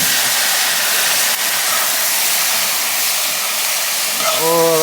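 Birch maple syrup from the Yukon sizzles in a hot pan, a loud steady broadband hiss lasting throughout, with a brief rising whine near the end.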